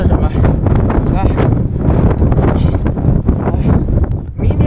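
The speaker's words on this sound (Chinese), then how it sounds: "这个风啊，刮的门都那什么" Strong gale on a high-altitude road in Ali, Tibet, roaring steadily and loudly across the whole stretch with buffeting gusts; no clear door rattle stands out, and a person talks over the noise.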